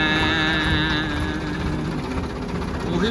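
A tractor engine runs steadily close by, a constant low rumble with a droning whine, no talking heard.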